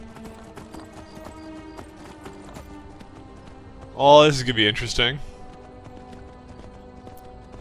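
A horse ridden across rough terrain in the video game Skyrim makes a steady clip-clop of hooves at a regular pace, and someone speaks briefly over the hoofbeats.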